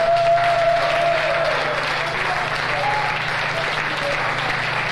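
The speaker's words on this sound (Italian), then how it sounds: "volevo ricordarvi con un lungo applauso" Sustained applause from a large concert audience, a dense, even wash of clapping that holds steady from start to finish.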